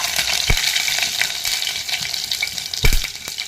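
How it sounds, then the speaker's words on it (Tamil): Mustard seeds and dried red chillies frying in hot oil for a Kongu-style rice and dal lunch, a steady close hiss and sizzle with a couple of soft pops and clinks. "கடுகு சேர்த்ததுக்கப்புறம் கொஞ்சமாக காஞ்ச மிளகாய் வந்துட்டு சேர்த்திக்கிறேன்."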